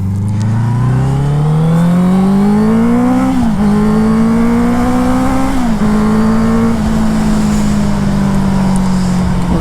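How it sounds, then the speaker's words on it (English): A Honda car drives and accelerates, its engine note climbing steadily then stepping through gear changes, loud and close throughout with a continuous rumble and no voices. "give the Honda a wee run here before the bad weather comes"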